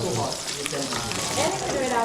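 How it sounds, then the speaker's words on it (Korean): A pan sizzles loudly with continuous frying crackle as shallots cook for mie goreng at a cooking class in Ubud, Bali, with people talking over the noise. "양파를 거의 튀기듯이 하는"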